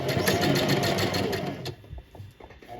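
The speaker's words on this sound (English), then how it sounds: "And I'm gonna sew and then back stitch and then continue" A sewing machine stitches a slouchy tote bag, a fast rhythmic whir for about a second and a half, then a few short bursts as it back-stitches.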